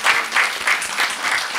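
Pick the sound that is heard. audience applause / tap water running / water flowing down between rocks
audience applause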